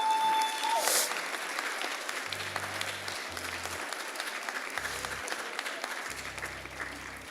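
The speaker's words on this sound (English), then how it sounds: "You all deserve applause." Applause from the audience at an 8th grade graduation ceremony runs as a sustained crowd clapping, with a brief tone at the start and low hum-like tones sounding intermittently beneath it.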